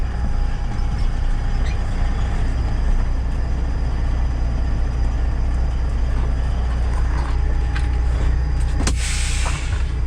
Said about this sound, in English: They got a truck loading over there. Truck just pulled in empty.